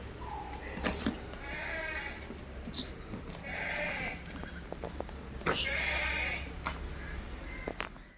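A large crossbreed dairy mother goat and her three kids bleat repeatedly, a string of short, fairly faint cries with pauses between them, along with other farm sounds and occasional caw-like calls.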